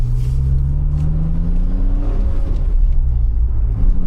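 A German classic car accelerates and shifts up through its gears, the engine note climbing, dropping at each change and climbing again, heard from inside the cabin with a deep continuous rumble.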